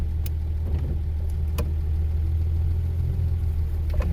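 Steady low rumble of a 1949 Chrysler Windsor engine running while the car is driven through a K-turn, heard close and continuous with a few faint clicks and knocks over it.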